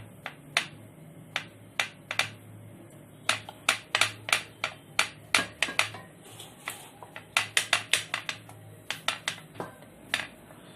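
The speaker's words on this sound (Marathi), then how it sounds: "मी लाटतोय तुम्ही बघू शकताय हे बघा" Pumpkin puri dough for crispy pumpkin gharge is rolled Pune-style with a rolling pin, giving a quiet series of sharp clicks and taps in irregular bursts, close and alone.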